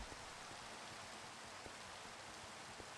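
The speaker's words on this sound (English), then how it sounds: "It's raining." Steady rain falls in modded Minecraft, a dense, even hiss with faint scattered drop ticks, continuous and soft, with no voices.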